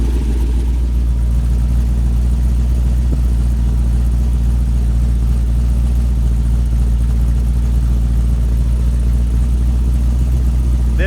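A V8 fitted with an Elgin 1838P 216/220 camshaft idles at 800 rpm, heard from the exhaust: a steady, loud, low rumble with an even, unbroken pulse, running alone without talk.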